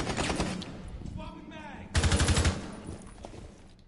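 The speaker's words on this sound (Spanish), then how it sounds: "Le da un poquito de tiros a Pepa." Rapid automatic gunfire bursts in a 5-v-5 competitive video game shootout, with a quick burst at the start and a louder, fast rattling volley after a pause, partly mixed with game sounds.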